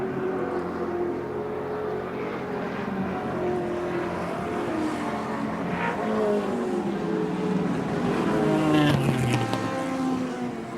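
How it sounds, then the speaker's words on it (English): Touring car racing engines from the 1983 Australian Touring Car Championship round at Adelaide International Raceway: several loud, close cars roar past one after another, with layered rising and falling engine tones and a sharper pass near the end. "John White, car 65, about to be lapped by Brock."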